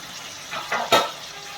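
Red pumpkin pieces are sautéed in a pan, a few short stirring scrapes and soft sizzles close by, ending in one sharper clatter against the pan.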